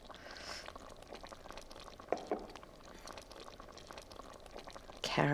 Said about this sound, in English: the coq au vin is just bubbling away